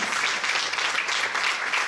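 A church congregation at a communion service breaks into brief, dense applause, many hands clapping together in an even, sustained wash that fills the room.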